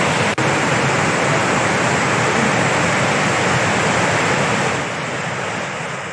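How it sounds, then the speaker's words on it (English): A waterfall in Microsoft Flight Simulator 2020, over Japan's Chubu region, gives a loud, steady broadband roar of rushing water that holds for several seconds, then eases slightly near the end. "So that's that waterfall right there."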